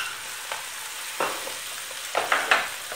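A sauce of harissa, parsley and coriander sizzles steadily in a pan, a soft close crackle broken by a few sharper bursts as it is stirred, with no voices.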